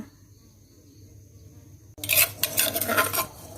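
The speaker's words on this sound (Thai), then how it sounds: "แล้วก็มาตำพริกกันนะคะ จะตำพริกหยาบๆประมาณนี้นะคะ" Chili peppers are coarsely pounded in a mortar with a pestle while a mushroom curry is prepared. Near silence gives way to a run of sharp, irregular clacking strikes up close.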